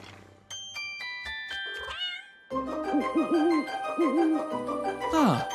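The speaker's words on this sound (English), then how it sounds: "Mr. Rubble is putting Kitten to bed" A cartoon kitten meows several times in quick, high wavering calls as it is put to bed, following a run of bright chiming tones and a short pause; the meows come close and loud, with playful music underneath.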